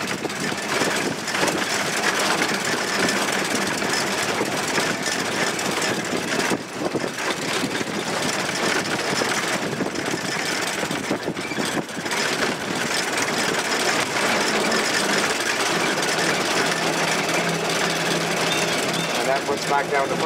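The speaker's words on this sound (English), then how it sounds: "There we go, high gear. We're just barely beyond idle." A 1914 Ford Model T engine runs just above idle in high gear, giving a steady, fairly quiet mechanical drone with a rapid ticking rhythm that holds even throughout.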